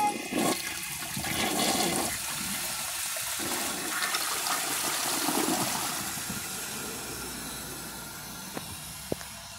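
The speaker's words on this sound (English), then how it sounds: "it's almost done filling, so let's give it a flush" A 2003 Gerber Maxwell toilet flushes with a loud rushing gush of water that drains away into a steady hiss as the tank begins refilling, with no talking.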